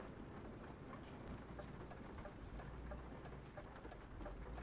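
Steady rain in the truck-driving game Euro Truck Simulator 2, a dense soft patter with a low rumble beneath, faint and even throughout.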